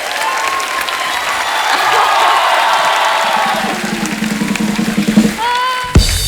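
Loud studio audience applause with cheering and whoops for the star cast of Cirkus on The Kapil Sharma Show, a sustained swell of clapping that thins near the end before a sharp burst.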